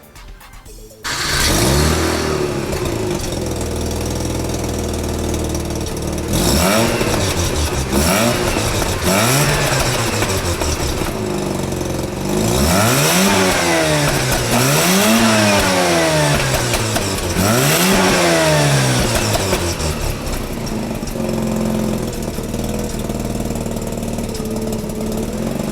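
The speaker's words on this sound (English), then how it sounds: "Last thing we're going to do is just have a listen to the exhaust." A Mazda RX-8's rotary engine idles and then revs repeatedly through its exhaust, loud and close, with rising and falling sweeps between steady idle stretches.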